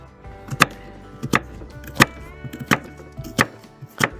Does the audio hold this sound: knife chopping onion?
yes